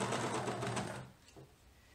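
A home sewing machine stitching a sleeve onto a blouse runs in a fast steady whir for about a second, then stops, leaving quiet room tone with a faint tick.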